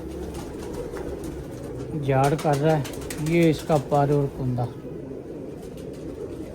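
Pigeons coo softly in the background, a low, continuous murmur beneath someone talking in Hindi close by.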